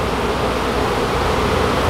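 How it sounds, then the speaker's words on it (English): Steady, dense buzzing of a large swarm of bees settled in a trash pile, close and loud, continuous with no talk. "And it is a good bit of bees"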